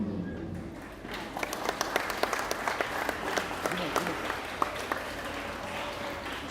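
An audience at a school day event claps steadily after a speech, a dense even patter of many hands continuing throughout at moderate volume, with faint voices mixed in.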